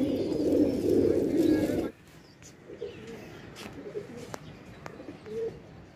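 Colourful pigeons in a fancier's netted loft coo in a dense, throaty burst for the first two seconds, then fall to a faint, scattered murmur with a few soft calls.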